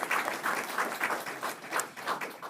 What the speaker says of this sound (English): So big round of applause for Ms.